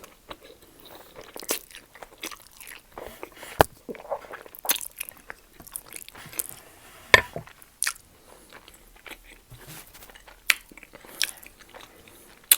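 Close mukbang eating of a huge block of Spam with creamy pasta carbonara and roasted tomatoes: irregular wet bites, crunches and chewing, loud and intimate, with no talking.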